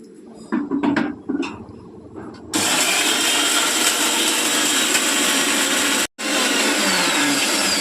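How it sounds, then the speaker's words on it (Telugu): A few short knocks and clatters, then a mixer grinder starts with a loud, steady high-pitched whir, briefly stops and restarts, grinding continuously. "మసాలా మిక్సీ పడతానండి"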